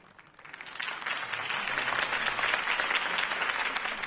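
Crowd applause at a campaign speech in the Telltale Batman video game, a dense wash of clapping that swells after a quieter start and holds steady and loud throughout.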